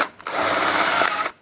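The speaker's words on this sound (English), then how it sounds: "We're going to take a drill bit and just drill out the rivets." A power drill bores out the rivets holding a license plate bracket on a 2010-2016 Cadillac SRX, giving a single loud, close, high-pitched whine lasting about a second, with no talk.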